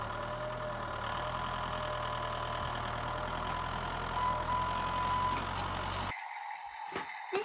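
A John Deere tractor engine idles with a steady, close mid-pitched rumble and a slight knock, then cuts off abruptly near the end, leaving a few faint clicks.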